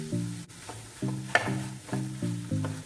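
A spoon stirs a thickening coconut and jaggery burfi mixture with cardamom powder in a pan, giving a few rhythmic scraping strokes with a faint sizzle between them, close and fairly quiet.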